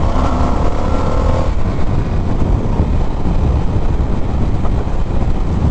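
A 2022 Indian FTR S motorcycle on a demo ride, its engine droning steadily under heavy rushing wind noise, loud and close throughout with no voices.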